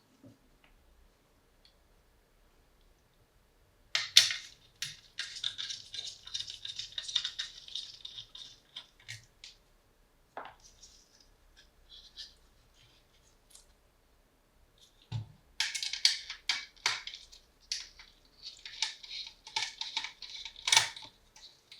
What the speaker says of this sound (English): So there's 4 screws holding the laser assembly together. Go ahead and remove those.